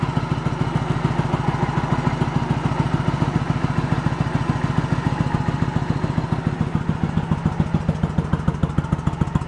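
A 1986 Yamaha Virago 1100 V-twin engine running with its front cylinder not firing, a close, steady, rapid chugging idle with a loud even pulse throughout.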